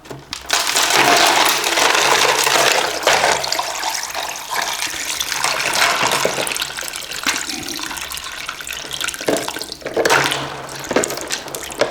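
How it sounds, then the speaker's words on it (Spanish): Very cold water pours steadily into a container for a gas-law experiment, a loud continuous splashing gush that fades slightly toward the end, with no talk. "lo completo con agua muy fría que la tenemos en este recipiente"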